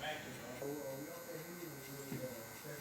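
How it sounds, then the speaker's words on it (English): Electric hair clippers bought off Amazon buzz steadily at close range in a barbershop, a continuous low hum with wavering tone as they move, and a voice speaks faintly beneath. "back to this clipper"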